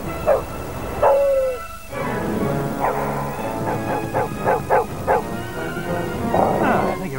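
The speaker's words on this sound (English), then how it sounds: "Rex the Wonder Dog." A dog in a TV advert yips, barks and whimpers in a string of short, high bursts, close and clear, with a brief speaking voice near the start.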